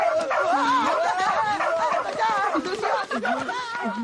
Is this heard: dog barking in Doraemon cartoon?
yes